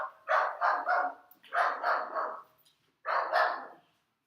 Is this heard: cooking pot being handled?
no